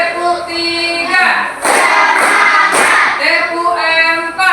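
An elementary fifth-grade class claps a rhythmic pattern, a few loud, close bursts of massed hand claps in the middle, surrounded by children chanting and singing in unison.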